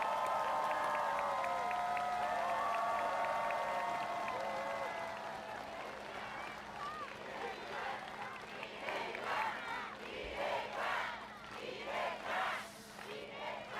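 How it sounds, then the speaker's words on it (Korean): Applause and crowd noise break out at a Democratic Party political gathering, following a speaker's amplified voice; clapping and scattered cheers rise in the second half, moderately distant and reverberant. "여러분, 박수 부탁드립니다."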